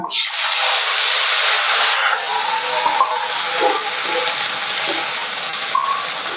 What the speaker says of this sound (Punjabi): ਟਮਾਟਰ ਗੰਦੇ ਹਰੀ ਮਿਰਚ ਇਹਨਾਂ ਨੂੰ ਚੰਗੀ ਤਰ੍ਹਾਂ ਭੁੰਨ ਲਾਂਗੇ